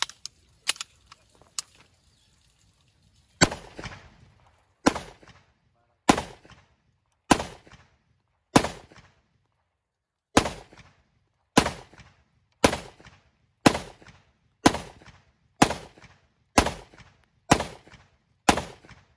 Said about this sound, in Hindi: तो चलिए फायर करते हैं 20 शॉट पे।